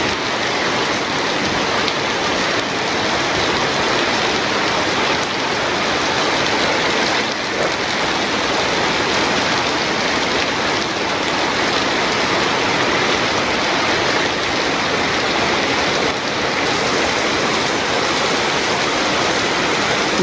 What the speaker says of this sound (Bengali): সেই বৃষ্টি নামছে